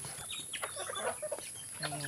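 Chickens clucking outdoors during feeding time on a small farm, several short clucks scattered over a faint steady background hiss, with a brief sharper call near the end.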